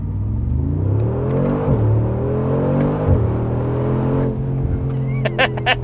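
The M177 V8 of a Mercedes-AMG G63 revs hard and accelerates with a deep, rising roar, dropping briefly between gear shifts before climbing again, loud and close.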